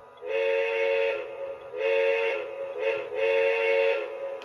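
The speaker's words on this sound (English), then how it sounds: "And you can blow the whistle." A Lionel LionChief Walt Disney World 50th Anniversary Express train set locomotive sounds its steam-style whistle three times in long, steady, loud blasts with short gaps between them.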